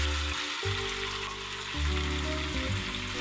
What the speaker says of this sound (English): Now it's time to fry the meat in some vegetable oil on medium heat.